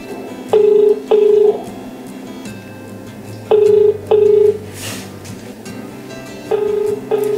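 A phone call placed on speakerphone rings out: loud electronic ringback tones come in pairs, sounding three times with silent gaps between.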